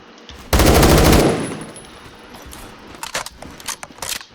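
A gun in the Roblox game Phantom Forces fires a loud, rapid automatic burst of about a second, followed by quieter scattered shots and clicks nearby.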